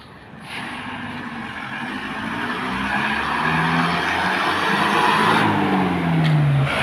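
A car drives along a dark road at night, its engine and tire noise rising steadily as it approaches and passes close by, growing louder toward the end with no talking.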